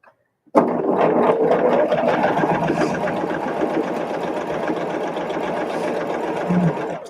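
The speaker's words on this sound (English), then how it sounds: "So I'm going to run it through the machine this way." A sewing machine stitching quilt fabric starts abruptly and runs at a steady, loud, close whirring hum for several seconds without pause.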